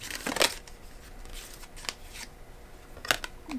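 Tarot cards are shuffled during a reading, producing short crisp riffling bursts near the start and again near the end, close and fairly clear over a quiet room.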